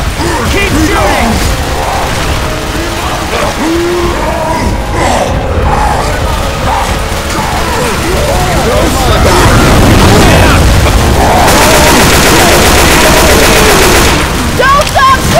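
Rapid automatic gunfire and booming blasts in a chaotic video game firefight, loud and continuous, with voices talking over the shooting throughout.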